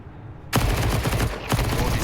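M4 rifle fire in Counter-Strike during a Major match: two sharp, loud bursts about a second apart, each ringing out with a dense, close crackle.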